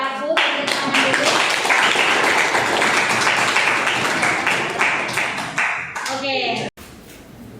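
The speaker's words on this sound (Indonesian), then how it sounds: "Tepuk tangan dulu." Clapping from a class or audience at an accounting teacher-training session, a steady dense patter lasting several seconds before stopping abruptly, with a brief spoken word near the start.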